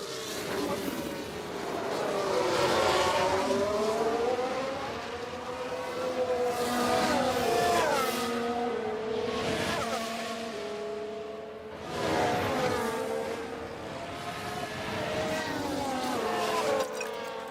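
F1 race cars in F1 Manager 24 scream past in waves of high revving engine whine, rising and falling as they pass with gear-change dips, loud and continuous and likely under a commentator's voice.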